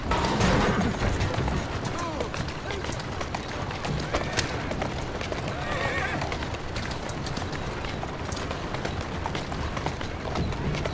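A mare in Assassin's Creed Syndicate neighs and whinnies while her hooves clip-clop and pound at a run, steady and close throughout, with game character voices talking over it.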